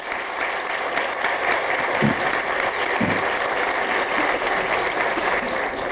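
Sustained audience applause at a lecture on ethnic issues in public administration, a dense, even wash of many hands clapping at steady loudness for several seconds, with no speech over it.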